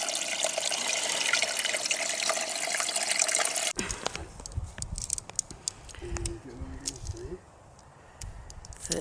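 Water running from a tap outdoors on a long-distance trail, first a steady loud gush, then an abrupt stop followed by quieter trickling and bottle handling noises, with faint voices in the background.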